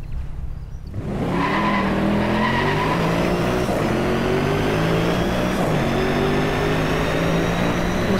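Engine of the Hennessey Venom supercar in a racing video game, revving hard from a standing start and climbing steadily in pitch through the gears, loud and continuous, with no voices over it.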